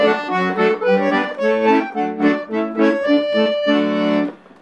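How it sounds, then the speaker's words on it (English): A Crucianelli 120-bass accordion plays a short melodic phrase on its single clarinet reed, a clear, mellow reed tone with bass chords underneath, close and fairly loud before fading out at the end. "So the clarinet reed sounds something like this."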